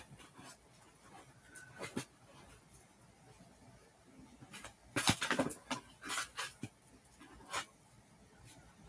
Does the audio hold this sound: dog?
yes